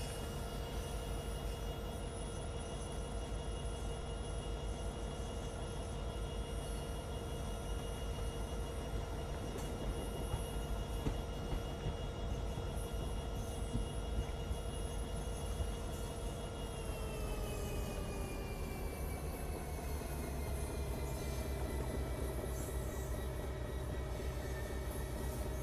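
An express train runs in the MSTS train simulator game during monsoon weather, a steady loud rumble of wheels and motors with tonal hums that bend downward partway through, continuous and without speech.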